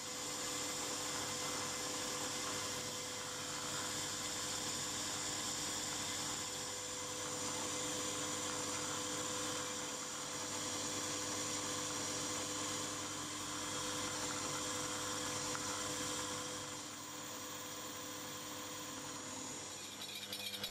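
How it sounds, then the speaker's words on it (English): A drill boring clamping holes through metal at 6BA tapping size in a model engineering workshop, a steady, even whirring machine drone that continues with little change for about twenty seconds. "get on and drill right the way through at 6BA tapping size, and then halfway at 6BA clearance"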